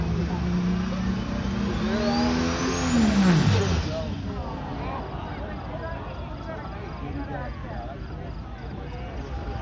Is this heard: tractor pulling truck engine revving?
yes